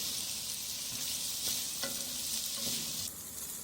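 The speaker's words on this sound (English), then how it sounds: "We are stirring continuously the rice which we added." Rice being stirred continuously in a cooking pan over heat, a steady broadband sizzle with a few soft scraping strokes of the spoon, fairly close and with no talking.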